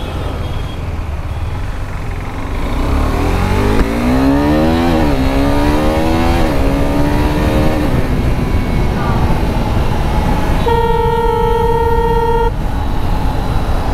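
KTM RC 390 motorcycle ridden at speed, its engine rising in pitch through several revs and gear changes, with a vehicle horn sounding near the end and wind noise throughout.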